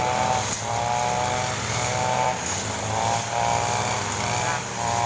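A small engine drones steadily and close by, with a slightly wavering buzzy pitch, like a grass trimmer running continuously without a break, during a roadside cleanup at a forest temple in Thailand.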